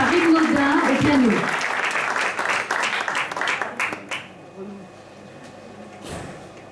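Audience applauding warmly after a sung performance accompanied on piano, a dense burst of clapping under talk that thins out and fades to quiet after about four seconds.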